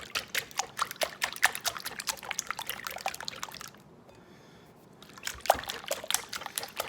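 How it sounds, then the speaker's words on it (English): Eggs whisked in a bowl for an impossible quiche, a quick clicking, sloshing rhythm of fast strokes that pauses briefly midway, then resumes, close and moderately loud with no talking. "4 eggs. And then we're going to whisk those up."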